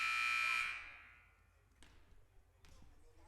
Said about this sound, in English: after the buzzer, we get set here